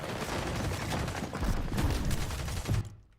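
An enemy sprays gunfire in a Fortnite match, a steady rattle of rapid shots with heavier bursts toward the end before it cuts off abruptly into quiet.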